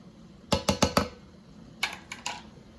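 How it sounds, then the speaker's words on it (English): A lid settles onto a pot of butter chicken sauce on medium heat: four quick, sharp clacks close together, a pause, then three softer knocks, with no one talking. "I'm going to cover it and simmer it for about 10 minutes"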